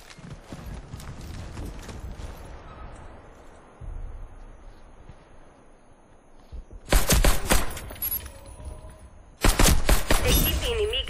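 Weapon fire in a Warface multiplayer bomb round: two loud bursts of rapid gunshots, one near the middle and another near the end, over a rumbling, cluttered game background.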